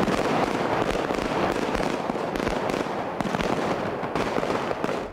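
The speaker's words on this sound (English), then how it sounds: "Notice how the gunshots linger in the air." Sustained automatic gunfire in the bank-heist street shootout from the film Heat, heard as dense, rapid, echoing cracks that blur into a continuous rolling roar, with a few louder distinct reports standing out.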